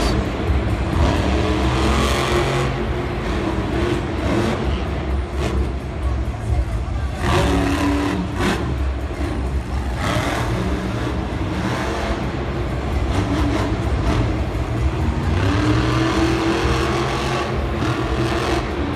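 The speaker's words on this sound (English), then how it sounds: "now we have Steve Sims and Stone Crusher coming right out, going over the crush cars." The Stone Crusher monster truck roaring over crush cars at a Monster Jam event in a Glendale arena, a loud continuous engine drone with revving surges and crowd noise, an announcer talking throughout.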